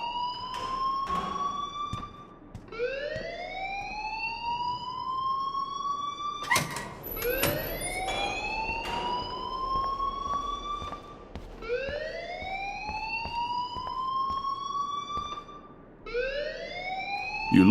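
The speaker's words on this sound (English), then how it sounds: "please turn off that alarm since that's your job" A repeating rising electronic wail from a fire alarm in the video game Life is Strange, sweeping upward again and again at a steady pace with brief sharp clicks between cycles, loud and without speech.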